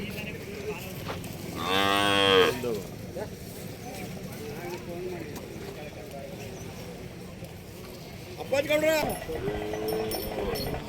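Two loud, drawn-out Hallikar calf moos at a cattle fair, one early and one near the end, over murmuring crowd voices and background chatter.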